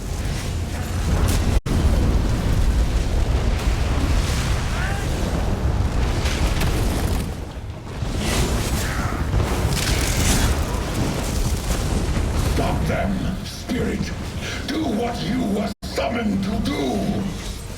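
Volcano eruption in the video game Elder Scrolls Online, deep rumbling booms and bursts rolling on continuously and loudly while a voice speaks over much of it.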